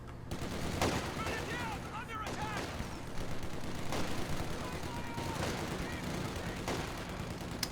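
Volksgrenadiers firing on a penal squad at close range in Company of Heroes 2: dense, continuous rifle and machine-gun fire with scattered sharp cracks and occasional heavier booms. The fire is loud and fills the whole stretch without a break.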